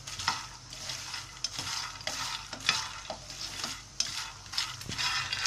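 Almonds dry-roasting in a pan for almond laddu, stirred continuously: rhythmic scraping and rattling swirls rise and fall every second or so, with a light sizzling texture, close and clear.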